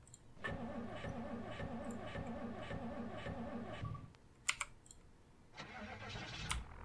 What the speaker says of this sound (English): This engine has served us well, and this car in general served us well.